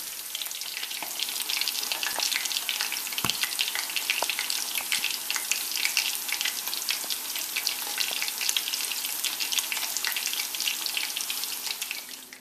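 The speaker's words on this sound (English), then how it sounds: "that will help once you put it into the deep fryer" Coconut shrimp on skewers deep frying in a deep fryer, a dense, even crackling sizzle of hot oil that runs steadily throughout, with no voices.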